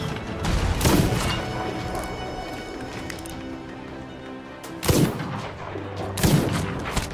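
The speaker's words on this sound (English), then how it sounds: "They're all shooting me on the deck" Gunfire in the Sea of Thieves video game rings out against a player on a ship deck, with sharp loud bursts near the start and again twice later over a steady background of game music and ambience.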